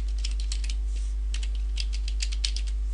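Fingers typing an install path on a computer keyboard, a quick irregular run of close, crisp key clicks with brief pauses between bursts, heard alone over a low steady hum.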